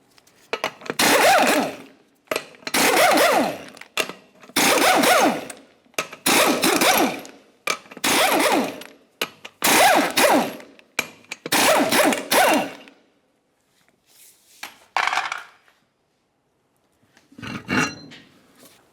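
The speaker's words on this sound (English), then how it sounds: "Use a 24mm socket to remove all 8 of your lug nuts" An impact wrench with a 24mm socket removes the eight lug nuts from a 1994-2002 Dodge Ram 2500 wheel, giving repeated loud rattling bursts of about a second each, separated by short pauses.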